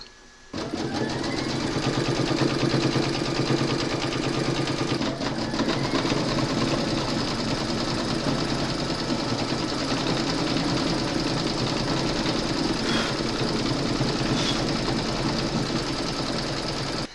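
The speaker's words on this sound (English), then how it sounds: "That's going to secure your fabric to the hoop, and then it's going to do all the embroidery." An embroidery machine stitches a trapunto feather quilt block held in a hoop, humming and rattling continuously at a fast, even pace, close and steady for the whole stretch.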